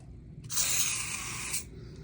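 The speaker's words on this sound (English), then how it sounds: "I have to lubricate the racks, and I lubricate everything that moves here" An aerosol can sprays lubricant onto the slide-out racks of an RV in one steady hiss lasting about a second, close and clear over a quiet background.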